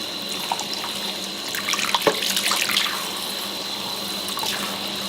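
Tap water runs steadily into a sink as a paint brush is rinsed and squeezed clean, with soft splashing and swirling rising in the middle before settling into a constant flow.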